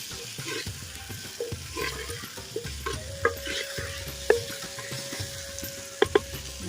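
Turkey berries (sundakkai) sautéing in oil in a pan, a soft steady sizzle broken by spoon or spatula stirring scrapes and a few sharp metallic clinks against the pan.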